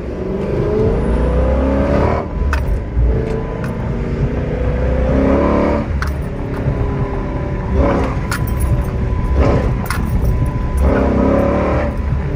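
A Dodge Challenger SRT8 fitted with a K&N cold air intake pulls hard from inside the cabin, engine note rising through several gear changes with a faint whine over the steady drone, no talk.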